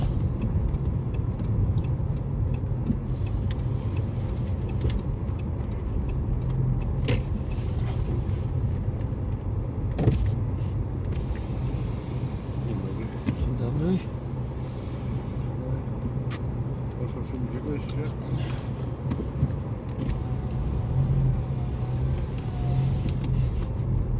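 A car travelling on the road on a cold day in Poland, heading to a used-car market, gives a steady low engine and road drone inside the cabin that runs continuously with only small swells and no talk.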